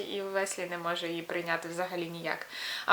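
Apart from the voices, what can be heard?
No distinct noise like a dog, phone or traffic.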